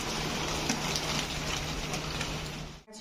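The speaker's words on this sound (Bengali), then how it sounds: "এতক্ষণে বৃষ্টিটা শুরু হয়েছে।" Steady rain falling outdoors during home cooking, a dense continuous hiss of drops that holds level for about three seconds before cutting off abruptly near the end.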